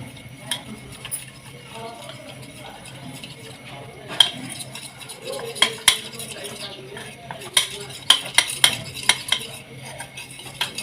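Cornflour being stirred into a batter with a spoon, a series of clinking scrapes against the bowl that grow busier toward the end, close and moderately loud over faint kitchen background.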